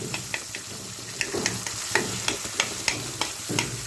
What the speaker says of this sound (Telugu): ఇలా చింతపండు మొత్తం ఈ టమాటో ముక్కలు బాగా మగ్గిపోవాలి